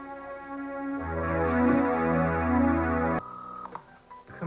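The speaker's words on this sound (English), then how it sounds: "Come on, Eden, pick up the phone." A telephone being dialed at home in a 1986 drama, a sustained steady tone followed by a string of short dial tones and beeps, close and fairly loud with no talking.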